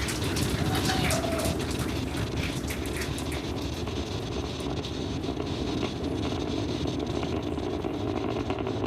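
Falcon 9 rocket engines roar through the launch of the Polaris Dawn crew mission aboard Dragon, a steady, dense rumble that holds at high level throughout, with faint radio chatter and commentary beneath.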